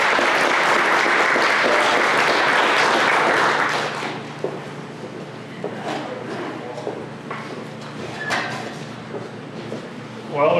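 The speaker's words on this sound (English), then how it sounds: "Give him a hand of a round of applause." A hall crowd at a county sheriff's posse celebration claps hard for a newly introduced posse captain, a dense, loud round of applause lasting about four seconds before thinning into scattered claps, room murmur and talk.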